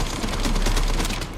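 Rapid SMG gunfire in the survival-horror video game Resident Evil Requiem, a dense, continuous burst of shots lasting just over a second, loud and close with no talk over it.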